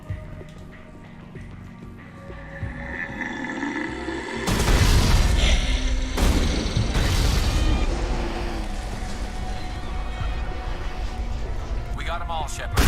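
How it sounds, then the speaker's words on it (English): An anti-thorium grenade detonates in the Mass Effect Legendary video game, a loud booming blast followed by sustained rumbling and crackling combat noise, with a voice talking before and during it. "Alright, what if I throw a grenade?"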